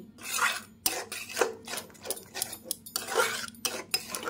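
A spoon stirring a spice mixture with sour yogurt in a pan over low to medium flame for begun bahar, with repeated scraping and clinking strokes against the metal at an uneven rhythm, close and fairly loud.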